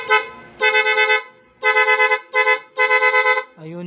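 A loud, close motorcycle horn wired through an interrupter relay blares in rapid pulsing bursts, four choppy pulsed blasts separated by short gaps, ending with a lower tone.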